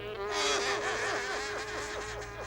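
A cartoon fly in a Smurfs episode buzzes close and loud, its whine swooping up and down in repeated arcs as it circles, with no talking.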